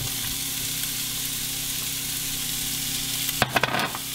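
Onion frying in oil with a little butter gives a steady close sizzle throughout, broken near the end by a few quick spoon clinks and stirs.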